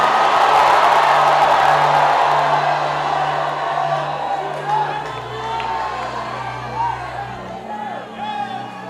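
A church congregation gathered on a street shouts and cheers loudly as a dense, sustained crowd roar that slowly eases off, with scattered whoops and voices over the top.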